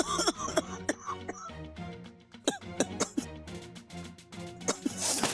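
A woman coughs repeatedly alone in a bedroom, with several sharp, close bursts of coughing and throat sounds scattered across the moment, mixed with some vocal noises.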